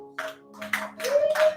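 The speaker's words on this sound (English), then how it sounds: "A round of applause." Scattered hand claps from a stage-show audience greeting a musical guest, arriving in a few short bursts over a steady tonal hum.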